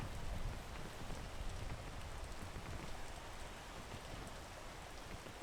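Steady rain patters down in the climbing video game PEAK as an even, quiet hiss with no voices.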